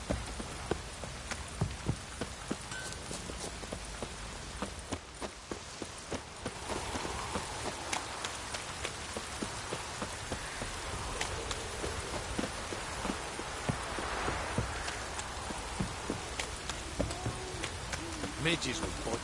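A heavy downpour in The Witcher drums steadily on surfaces for the whole stretch, with sharp drip-like ticks and occasional clopping over the rain, and voices speaking intermittently.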